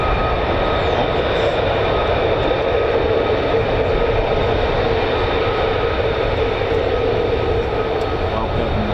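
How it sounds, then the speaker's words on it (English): F-35A fighter jets flying at RAF Lakenheath, home of the 48th Fighter Wing, make a loud, continuous broadband engine roar that holds steady without letup. "These are the F-35As"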